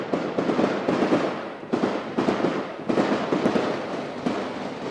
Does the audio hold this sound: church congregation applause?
no